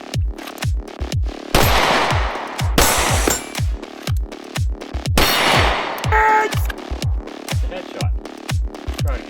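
A Staccato C2 pistol fires from concealment at a range, a long run of sharp, close, loud shots in quick bursts with brief pauses between groups.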